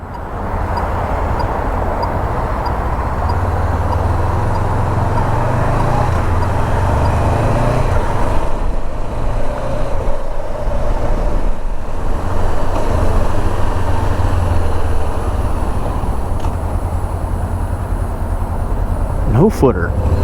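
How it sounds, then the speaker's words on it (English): Steady road traffic and engine drone surround a Honda CB500X motorcycle on a city commute, with a deep low rumble and wind running constantly and a brief sharp knock near the end. "God, never-ending line of traffic."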